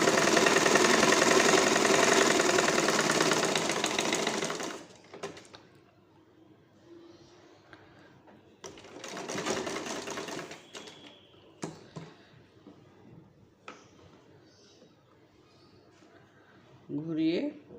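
Sewing machine stitching a bra, a loud continuous whirring run at the start, then a shorter burst midway, separated by quiet handling clicks and some talk.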